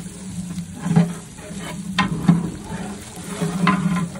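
Mutton curry simmers and sizzles in a pot, with soft bubbling under a few scraping stirs of a spoon against the metal, heard close up over low background noise.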